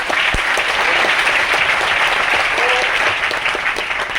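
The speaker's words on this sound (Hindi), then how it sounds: "चलिए एक बार जोरदार तालियां आप लोगों के लिए" Loud, sustained applause from a large crowd, a dense wash of clapping that holds steady throughout without pause.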